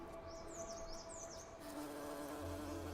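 Hairy mountain bees buzz close by with a steady droning hum, the pitch wavering as they move, over a faint background of birds chirping.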